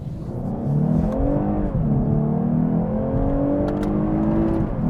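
A 2023 Lexus IS 350 sedan accelerates hard on a back road, its engine note rising loud and close through gear changes in a continuous, droning pull with no talking.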